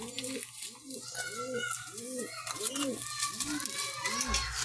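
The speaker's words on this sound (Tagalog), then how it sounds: "I-update tayo sa mga alaga nating kalapati." Repeated pigeon coos, about six rhythmic rolling calls, close and clear over a steady low hum with faint background chatter.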